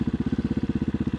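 A TBR7 motorcycle engine idles with a steady, rapid pulsing exhaust beat, moderately loud and close, with no talking.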